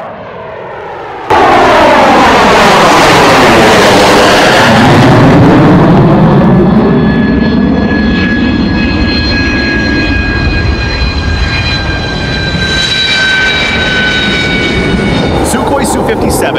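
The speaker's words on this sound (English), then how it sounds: "Advanced thrust vectoring control, which contributes to the Su-57's distinctive sound, also allows it to perform complex acrobatic maneuvers." Sukhoi Su-57 fighter jet taking off and maneuvering, a loud, sustained roar of jet engines that sweeps past with shifting, Doppler-like tones and high whining harmonics building over the full length.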